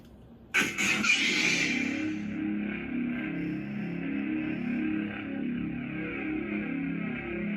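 A lightsaber sound font named Ignition snaps on with a sharp burst, then settles into a steady, close, droning hum that holds for several seconds without any talking.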